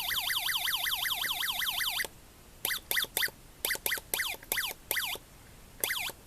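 A UM3561 sound-effect chip plays a rapidly warbling electronic siren tone for two seconds, then switches to a series of short, sharp chirping bursts separated by silences.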